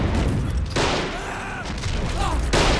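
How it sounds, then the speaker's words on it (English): A tank fires in the Army Men of War video game, loud booming shots and gunfire bursts in quick succession, with a voice talking over the battle. "Oh, a good shot there from the tank."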